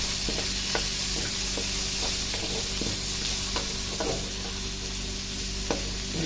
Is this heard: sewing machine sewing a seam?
no